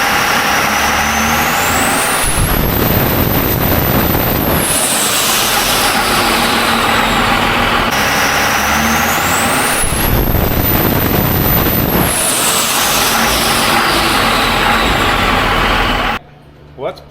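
Cummins diesel truck engine with a VE fuel pump and fuel pin, revving hard on a dyno in two long sweeping pulls, loud and close, with the pitch climbing and falling each time before cutting off abruptly.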